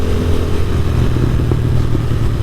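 A motorcycle engine drones steadily during a cruising test ride around West Seattle, heard close with loud wind rush and road rumble and no voice.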